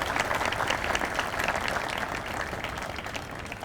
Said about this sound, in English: I think it's amazing that you should give the organizers a round of applause.